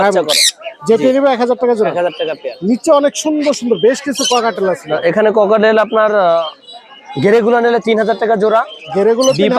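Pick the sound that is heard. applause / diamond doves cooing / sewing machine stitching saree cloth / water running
diamond doves cooing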